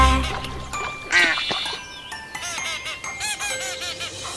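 Duck quacks and honking calls sound in a rapid, repeated series, bright and close, over a busy background of music and jingling tones, with a brief voice in the mix.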